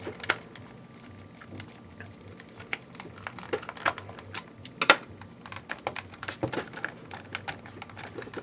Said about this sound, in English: So, last thing you need to do is put all the screws back in.